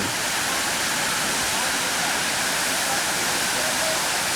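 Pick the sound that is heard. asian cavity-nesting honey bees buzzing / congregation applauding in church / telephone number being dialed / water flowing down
water flowing down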